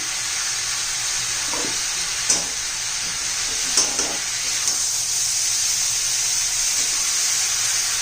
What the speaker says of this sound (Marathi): आता त्यात आपण पालक घालून घेऊया